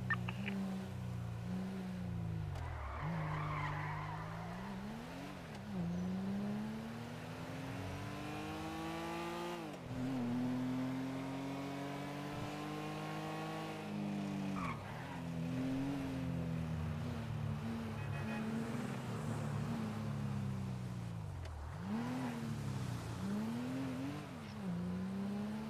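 A black Sultan car in a driving video game, its engine revving in repeated climbing sweeps broken by brief drops between gears, steady and fairly quiet throughout the drive.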